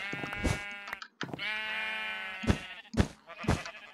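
Several sheep bleat on a Minecraft sheep farm, a series of loud, close, wavering bleats with short gaps between them and no talking over them.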